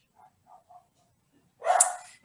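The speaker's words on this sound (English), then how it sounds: "the dog noise in the background" A dog barks a few times in the background, three or four faint, short yips spaced apart, before a louder burst of noise at the end.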